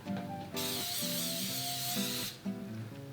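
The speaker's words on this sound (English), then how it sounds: "Rapeseed oil, we spray our pan." A steady aerosol hiss of rapeseed cooking oil being sprayed onto a pan, lasting nearly two seconds, with background music playing underneath and briefly continuing after.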